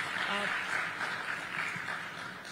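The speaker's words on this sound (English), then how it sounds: "I think this deserves a round of applause." Audience applause at a film industry interview event, a steady dense wash of clapping that fills the whole moment at moderate distance.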